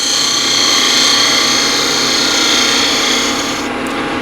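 A half-inch spindle gouge cuts a cove into spinning wood on a lathe, producing a steady, loud, continuous shaving hiss with a faint motor hum beneath, no talk.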